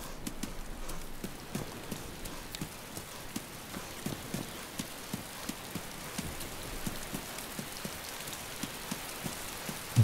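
Steady rain in the video game DayZ patters on a hard surface, with distinct drops ticking irregularly over a continuous wash, no voices.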